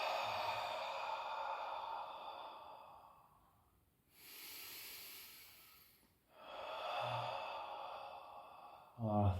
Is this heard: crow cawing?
no